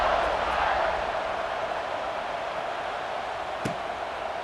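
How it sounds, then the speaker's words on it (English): A stadium crowd roars and buzzes steadily in EA Sports College Football 26 right after a score, a dense wash of cheering noise that fills the whole stretch with one brief sharp accent near the end. "this crowd is buzzing after that last score"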